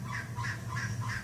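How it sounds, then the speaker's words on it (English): A trogon gives its barking call, a few harsh, squawky rasping notes repeated rhythmically in a quick series, moderately loud and close with no voices over it. "So that's a trogon barking."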